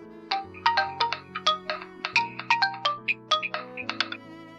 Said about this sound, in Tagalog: Maya-maya pa, nagring ulit ang telepono niya.